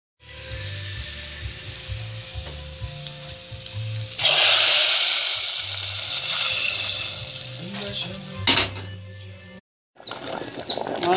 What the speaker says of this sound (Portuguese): Estou fazendo o temperinho do feijão, gente, porque estou fazendo aqui dentro do fogão a gás